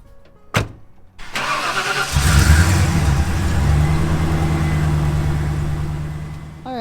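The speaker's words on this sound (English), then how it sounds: "Now I'm gonna warm up the truck" A truck engine cranks and catches after a short starter whir, then settles into a steady, loud idle as it warms up, close by and with no talk over it.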